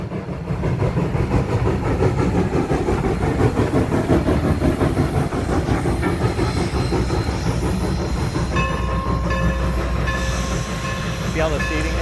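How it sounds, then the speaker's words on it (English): A Strasburg Rail Road steam train runs with a steady, loud rumble and rhythmic chugging throughout, close by, with a faint metallic ringing tone near the end and light talk mixed in. "You could really hear that steaming going."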